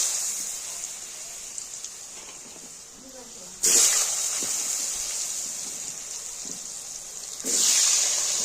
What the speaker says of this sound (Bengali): এরপর এই ফুলকপি আলুগুলো ভেজে নিব।